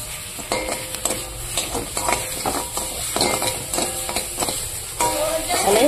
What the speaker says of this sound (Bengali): এবার আমি শাকটাকে মিশিয়ে নেবো।